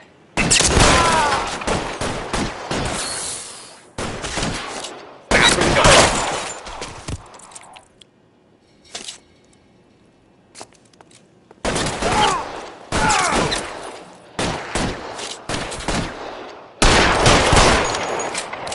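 Heavy gunfire in L.A. Noire, with long, loud bursts of rapid shots separated by brief lulls. It includes one quieter stretch in the middle with only a single shot before the firing resumes.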